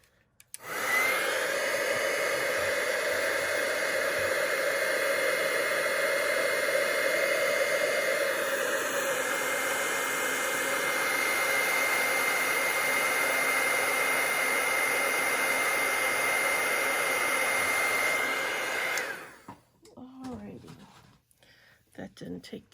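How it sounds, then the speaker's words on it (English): A handheld heat tool blowing hot air for embossing on a stamped paper craft project: a loud, steady whooshing fan roar close by for about eighteen seconds, then it clicks off, leaving quiet room sound. "and now we'll take the heat tool"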